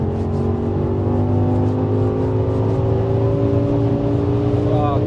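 A 1070 hp Audi RS6 accelerates hard, its engine a loud, close, sustained roar with steadily rising tones over about five seconds and a brief squeal near the end.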